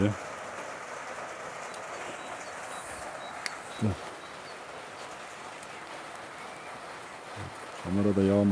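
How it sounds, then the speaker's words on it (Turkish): Steady rain hisses evenly in the background at a village house, with a few faint voices breaking in briefly near the end. "Yağmur başladı."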